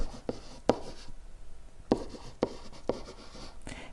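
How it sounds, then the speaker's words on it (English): Writing by hand on a surface during a maths lesson on slopes of lines, a close series of soft scratching strokes and sharp taps with short pauses between them. "I'll write this down"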